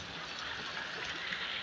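Water flowing out in a steady, soft trickling stream, continuous and fairly close throughout, with no voices.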